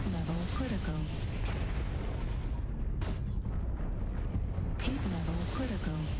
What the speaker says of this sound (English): Whatever, I'm shooting here. I'm shooting something.